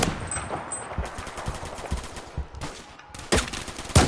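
Rapid gunfire crackles in the Roblox shooter Phantom Forces, sharp close shots in quick irregular bursts, with a few louder, heavier cracks toward the end.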